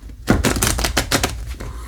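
Tarot cards are shuffled by hand in a quick burst of crisp, rapid riffling flicks, close and loud, with no talk over it.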